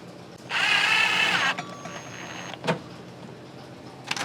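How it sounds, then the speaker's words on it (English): A power driver runs self-tapping screws through a new paint-match exhaust finisher into a car bumper: one steady, whining motor burst lasting about a second, followed by a few faint clicks and knocks, with no talking. "there's already 2 holes in the new piece that we're gonna run these new self-tappers through into the bumper"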